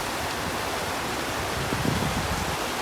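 Rain-swollen river rushes past under a bridge, making a loud, steady, broadband roar of churning water close by, with a slight surge in the lower rumble midway.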